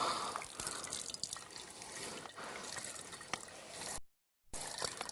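Filtered water trickles and drips steadily from a hose into a pot close by, a soft continuous splashing that cuts out briefly before resuming.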